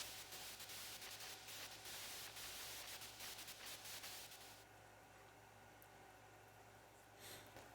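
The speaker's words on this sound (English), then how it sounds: "White noise on the screen will signal the start of battle." Broadband video-game white noise from .hack//Outbreak marking the start of a battle, a steady loud hiss filling the whole clip with a brief shift partway through.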